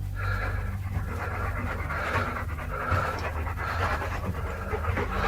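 A large security dog pants fast and steadily at close range, its rapid breaths running without a break over a low background rumble.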